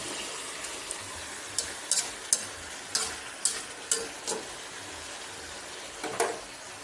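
Vegetables sauté in a hot pan with a continuous sizzle, broken by a series of clear spatula scrapes and clacks as they are stirred and tossed, close up and with no voices.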